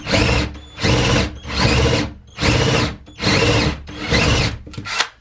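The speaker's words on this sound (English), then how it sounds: "We just want to cut through the plywood." Power drill with a hole saw cutting through a plywood floor during a cargo trailer camper build, loud grinding bursts repeated about six times in steady rhythm with brief pauses between.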